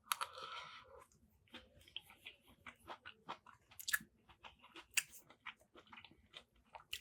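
Someone chews shrimp in sauce up close, with wet, crunchy bites and mouth noises coming in irregular bursts, separated by brief quiet pauses.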